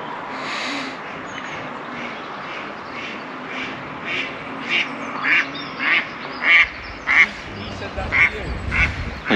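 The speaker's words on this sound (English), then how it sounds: "At least that means loads of ducks on here." Ducks quack repeatedly on a winter fishing lake, a run of loud, closely spaced calls that grow stronger toward the end, mixed with outdoor wind noise and nearby chatter.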